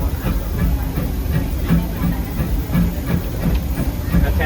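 Steady, loud hiss of steam from the boiler of a Disneyland Railroad steam locomotive, heard up close from the cab and continuous throughout.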